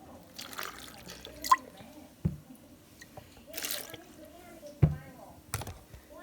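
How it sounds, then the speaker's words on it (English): Water poured into a blender pitcher while making potato and chicken tomato soup. Soft splashing and dripping sit close by, broken by a few sharp clunks and a brief voice in the background. "I'm gonna add a little bit of water to this."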